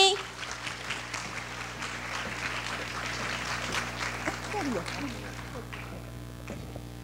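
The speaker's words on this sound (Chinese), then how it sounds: "让我们以最热烈的掌声欢迎陈文茜陈老师以及林中勇老" An audience applauds to welcome lecturers at a university lecture hall, a moderately distant clatter of clapping over a steady room hum, with voices partly mixed in.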